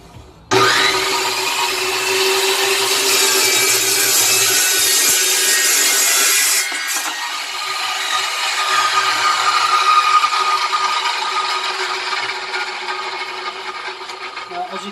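Evolution Rage saw cutting through a metal piece, a loud continuous grinding rasp starting abruptly, then dropping to a lower, rougher cut that tails off.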